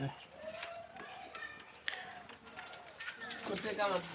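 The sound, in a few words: Pakistani high-flyer pigeon from Kuwait cooing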